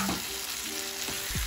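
Chicken chilli momos stir-fried in a hot pan, giving a steady loud sizzle with occasional stirring scrapes and thumps.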